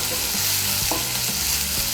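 Chopped onion fries in hot oil for a Bengali rui fish curry, giving a loud, dense sizzle with a few soft stirring knocks.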